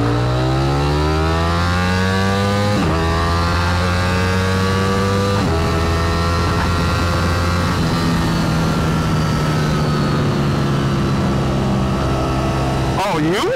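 A Ducati Streetfighter V4 fitted with a black Termignoni exhaust revs hard and close, its engine note climbing and dropping in repeated sweeps with a sharp burst at the end.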